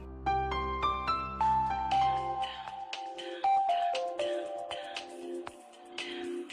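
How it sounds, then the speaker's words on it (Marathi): An incoming-call phone ringtone plays a bright, repeating electronic melody of chiming notes, steady and fairly loud for several seconds in a home scene, with no talk over it. "बाबांचा फोन येतोय. घे ना."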